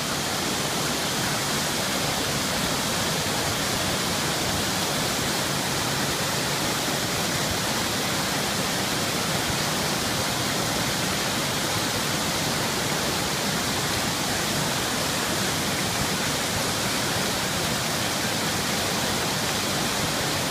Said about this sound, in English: Go under the waterfall.